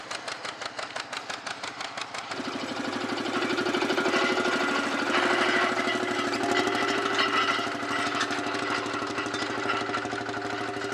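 Field Marshal Series 3A tractor engine at a steam rally, a slow single-cylinder thump that swells into a loud steady chugging run, close by and alone.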